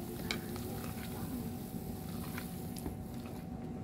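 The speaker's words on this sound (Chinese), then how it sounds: "我来搅动一下。" Water at a rolling boil in a pot being stirred, heard as a low, even bubbling hiss with faint clinks and scrapes, quiet and continuous with no talking.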